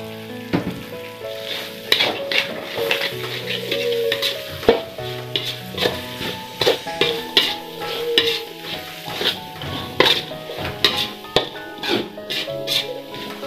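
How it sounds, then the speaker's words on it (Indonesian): Meatballs, cabbage and mustard greens stir-fry for bakmie jawa, a spatula clattering against the pan in irregular scrapes over a steady sizzle, loud and close. "Kita masak sampai daun kol dan sawi hijaunya layu ya pemirsa."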